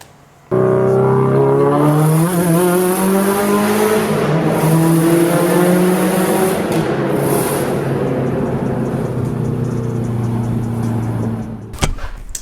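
A Subaru WRX wagon with Tomei equal length headers, a Grimspeed V-band up pipe, a 38mm wastegate and a Tomei titanium catback revs loudly and close, its exhaust note rising and falling in a sustained drone before cutting off near the end.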